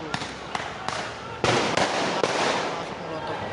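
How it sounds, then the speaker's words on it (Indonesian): Firecrackers burst in sharp cracks during a street protest, several quick pops followed by a louder sustained crackling barrage, with crowd noise throughout. "Pakai petasan tuh, masuk."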